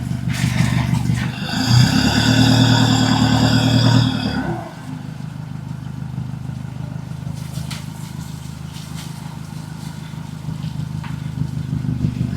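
A truck carrying heavy equipment on a rough dirt and rock road gives off a deep engine rumble that revs hard for a few seconds, then drops to a lower steady drone with scattered rattles and clatter.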